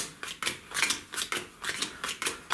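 Hanamikoji game cards are shuffled by hand in a run of crisp riffling bursts, several in quick rhythm, close and fairly soft, with no talk over them.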